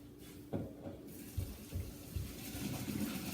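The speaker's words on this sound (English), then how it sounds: "So now we're gonna turn it off and we're gonna drain it." Cooked pasta water drained into a kitchen sink after cooking pasta for meatballs, a steady close splashing gush with a few louder thumps and bursts as the pot is tipped.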